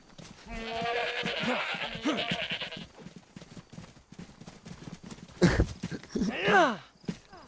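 Goats bleat repeatedly in the DayZ video game, several cries overlapping with game footsteps, while people talk over them.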